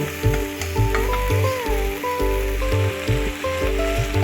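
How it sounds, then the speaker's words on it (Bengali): Ground mustard and poppy seed spice paste frying in a pan for a Bengali fish curry, a close, bubbling sizzle with irregular pulses as it is stirred, steady throughout with no talking. "এই সময় আমি বাটা মশলাটা দিয়ে দিই। মশলাটা কষে নেব।"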